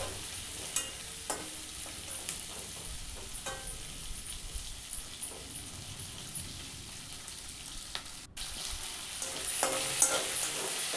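Soya chunks with onion and capsicum stir-fry in a hot pan for soya chilli, a continuous crackling sizzle broken by scattered scraping stirs, fairly close and without speech.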